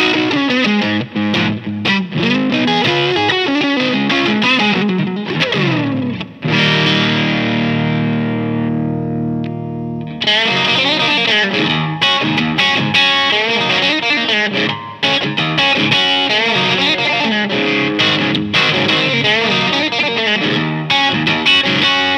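Electric guitar on the neck pickup with the coil split, run through a Hardwire overdrive pedal into a Wampler Black 65 amp, playing loud, gritty driven riffs and runs with one long sustained ringing chord midway.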